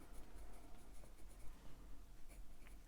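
A green Polychromos coloured pencil scratches across textured paper in steady, close, continuous strokes, with a dry grainy rasp throughout.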